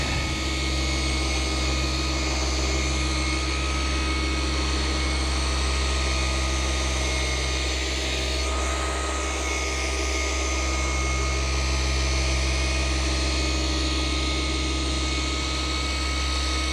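A machine polisher buffs swirl marks out of the paint on a car bonnet under firm pressure, a loud, steady motor drone with a constant whine that barely changes for the whole stretch.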